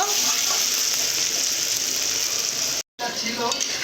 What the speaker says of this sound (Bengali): এবার এতে জল দেব